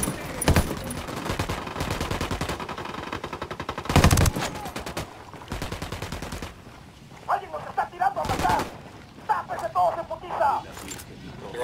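Rapid gunfire in a first-person shooter game with a squad opening fire, heavy bursts early giving way to sharper clustered shots, layered under in-game voice chatter.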